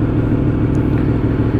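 A Yamaha MT-10 SP motorcycle with an Akrapovic exhaust warms up with a loud, steady, deep idle rumble heard close and alone.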